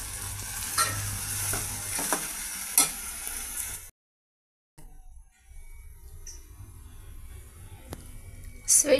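Cooked rice being stirred into hot ghee with fried dry fruits for sweet pulao sizzles and scrapes steadily in a pan, cut off by a brief gap partway through before the soft stirring resumes.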